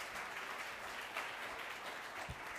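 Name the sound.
audience applause at media call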